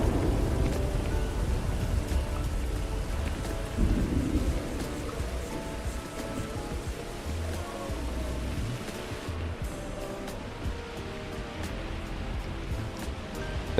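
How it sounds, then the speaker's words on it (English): A thunderstorm rolls through a Starfield game world, with steady heavy rain hiss and low rumbling thunder swelling and fading throughout, dense and continuous with no talking. "Ooh, that was lightning."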